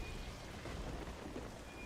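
Steady rain hiss fills a stormy level in the video game Aliens vs. Predator (2010), a faint, continuous wash of falling water with a low rumble of thunder underneath.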